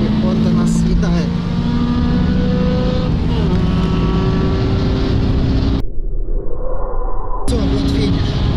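Cars accelerating hard in a drag race between a BMW M5 and a Honda Prelude, a loud continuous engine drone with rising gear-change sweeps heard close from inside a car, a brief cut near the end, with people talking over it.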